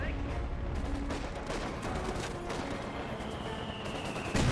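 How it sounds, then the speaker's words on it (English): Mortar impacts and gunfire from a Company of Heroes 2 battle rumble continuously, with sharp bursts of shots and a heavier blast near the end, under a dense layer of game noise. "It really shoots that tank with this gun. Ooh, great mortar hit there."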